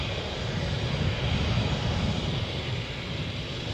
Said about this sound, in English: This being the 190 standard Embraer on its way to London City.